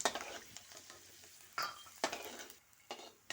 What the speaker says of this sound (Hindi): अब मूंगफली को तेल में थोड़ा सा फ्राई कर लेते हैं।